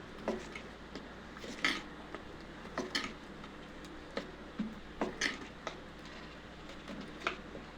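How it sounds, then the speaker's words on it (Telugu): A spoon stirs salt into leftover idli batter in a metal vessel, giving light intermittent clinks and scrapes in an irregular rhythm over a quiet background, with no talking. "ఈ సాల్ట్ అంతా మంచిగా ఒకసారి కలుపుకోవాలి"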